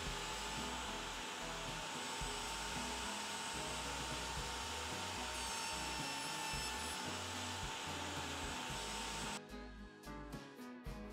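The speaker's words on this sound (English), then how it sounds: "then ran the sides through to cut the bevels" A table saw cutting bevels along wooden side panels for a pencil holder, a constant loud whining hum of the blade through the wood that ends abruptly near the close with a few clattering knocks.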